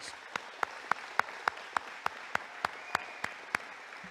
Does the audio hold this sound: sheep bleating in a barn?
no